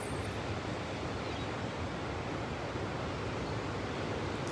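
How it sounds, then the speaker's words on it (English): Steady, continuous surf of ocean waves on a beach at sunrise, a broad wash of noise with no clear breaks or voices, close and even in level throughout. "you can hear the rise and the fall of the waves"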